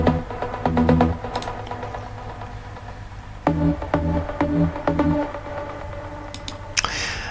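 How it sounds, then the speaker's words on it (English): A detuned trance pluck synth from Spire, with delay and reverb, plays a rhythmic melodic pattern in repeated short bursts with trailing echoes, loud and alone. "The main pluck comes from Spire rigging and sounds like this."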